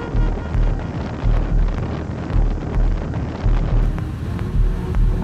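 Steady rushing airflow roars through the wind tunnel around a Mercedes-Benz C-Class (W205), with broad turbulent noise swelling in regular low pulses and brightening toward the end, with no talking.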